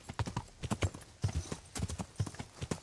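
A horse's hooves clip-clop in the video game Kingdom Come: Deliverance, crisp close hoofbeats in quick repeating groups of three or four, a steady walking-trot rhythm heard alone.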